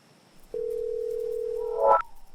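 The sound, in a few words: telephone dial tone of a phone call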